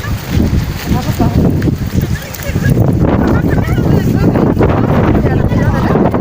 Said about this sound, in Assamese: এয়া বতাহ তামাম বতাহ দিছে